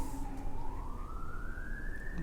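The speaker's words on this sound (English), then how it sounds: "We have a siren going on in the background" A siren wails in the distance, its tone slowly rising in a long sweep, heard faintly over a steady background hum.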